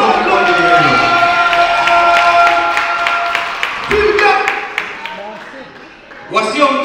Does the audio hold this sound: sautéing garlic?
no